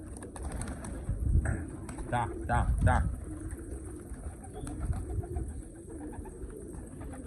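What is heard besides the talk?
pigeons cooing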